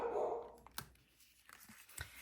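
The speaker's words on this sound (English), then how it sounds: "Yes, that is Whiskey barking in the background." A dog barks in the background indoors, a few separate sharp woofs spread across the moment, fairly faint and distant, with brief quiet gaps between them.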